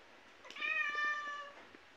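A single drawn-out cat meow, close and fairly quiet, rising and then trailing off over about a second against a soft, hushed background.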